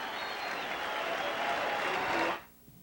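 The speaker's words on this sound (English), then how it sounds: "The crowd comes to a standing ovation, Tim" A boxing crowd at Caesars Palace rises in a standing ovation after a middleweight fight between Marvin Hagler and Marcos Geraldo, with dense, sustained applause filling the arena before it cuts off sharply near the end.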